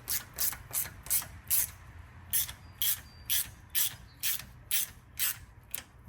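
A hand ratchet clicks in quick bursts while the valve cover bolts on a Honda B series engine are tightened, about a dozen short close strokes at an even pace, with no one speaking.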